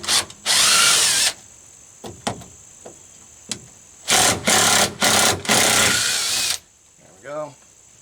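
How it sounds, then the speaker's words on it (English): An impact driver backing bracket screws out of a pipe support on a rainwater catchment setup, firing in several sharp, loud whirring bursts with short quiet gaps between them and a brief voice near the end. "So we're going to do that with the impactor."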